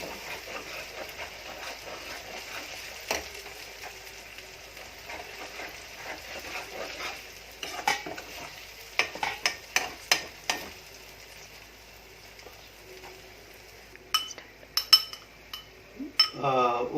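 A spoon stirs chicken fry ingredients in a pan, onions and green chilies with garlic paste, giving a faint sizzle under scattered scraping clinks and clatters of metal on pan, sparse and close.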